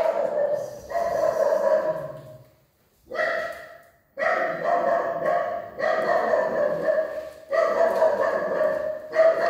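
Dogs barking in repeated bursts close by, with short pauses between volleys and some whining tones.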